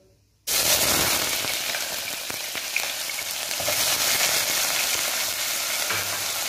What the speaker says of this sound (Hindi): फिर प्याज को अच्छी तरह लाइट ब्राउन कर लेंगे